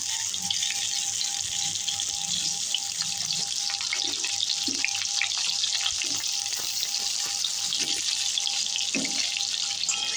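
Pointed gourd being rinsed under a running tap, a steady broadband rush of water with occasional soft knocks and splashes from handling the vegetables, close and constant.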